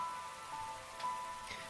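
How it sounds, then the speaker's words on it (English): Steady rain falling in The Hundred Line, a soft continuous hiss of drops with a few brighter patters, low and even throughout with no voices. "Yeah, this rain is nothing but trouble."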